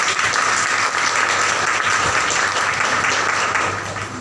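Loud, dense applause from the audience at a life-change motivational training event, sustained and steady for about four seconds before easing slightly at the end.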